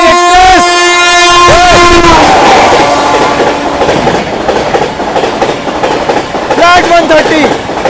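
The Patna Tejas Rajdhani Express overtakes alongside an Amrit Bharat Express at speed in India, a loud close roar with a horn blast at the start, then a dense rushing rumble and rhythmic clatter of passing coaches.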